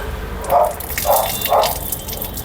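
Tap water flows through the pipe of a Hotstarr instant geyser, heard as three short, evenly spaced splashy bursts over a faint steady wash, close by with no talking.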